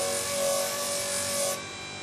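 Burnishing machine wheel spinning at high speed against leather with wax, a steady close rubbing whir that drops slightly near the end, with no talk.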